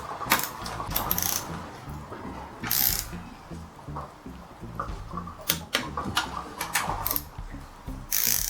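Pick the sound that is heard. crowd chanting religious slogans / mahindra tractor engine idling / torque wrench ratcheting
torque wrench ratcheting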